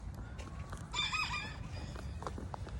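A single rooster crows once on a homestead, a short bright call rising out of quiet farmyard background noise and light scuffling.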